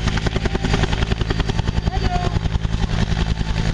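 An Agusta Bell AB212 helicopter hovers during a winch rescue demonstration at the Malta International Airshow 2009, its rotor beating in a loud, fast, steady pulse over a constant engine whine, close and continuous.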